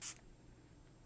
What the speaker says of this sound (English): I really like the Do the Spritz spray. This is really nice. It's got a great mist on it.